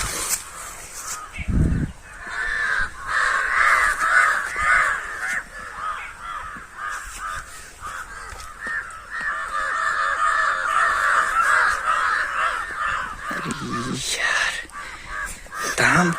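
A large bird called munguaa, said to call at night, gives repeated harsh, croaking caws close by, a rough ongoing calling that runs through most of the stretch while people talk over it.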